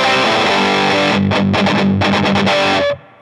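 Electric guitar played with palm muting through a Big Muff fuzz pedal with the Wicker switch off, a loud, thick fuzzed chord followed by choppy muted chugs in bursts, ending abruptly.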